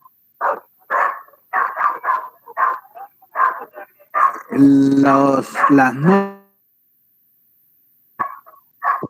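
Dogs bark and yip in short bursts, with a whining, snarling scuffle in the middle, close and loud, between snatches of a man's speech.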